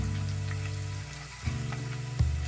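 Chopped onions with garlic sautéing in a pan over medium flame for Tamil fish curry, a steady close crackling sizzle with a couple of louder scraping stirs partway through, no voices.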